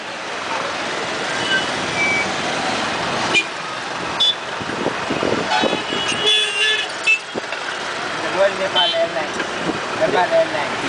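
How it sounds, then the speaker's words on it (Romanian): Car horns toot repeatedly amid busy late-afternoon traffic in central Kathmandu near Kathmandu Mall, short honks scattered over a steady road rumble with engines and occasional reversing beeps. "Se claxonează ca în Delhi."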